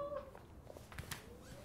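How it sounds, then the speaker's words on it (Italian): A kitten meows a few times, soft and fairly close, with quiet room noise around it. "Era il gattino."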